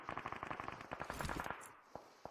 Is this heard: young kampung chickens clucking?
no